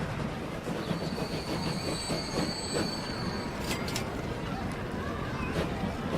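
A steam-era train running in the video game Transport Fever, a continuous rolling rumble with high wheel squeals and a few sharp metallic clanks, heard at moderate distance.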